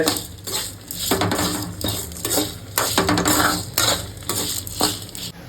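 A spoon stirs roasted ginger and tamarind in a hot pan for ginger thuvaiyal, with rhythmic scraping and metallic clinks against the pan over a faint sizzle.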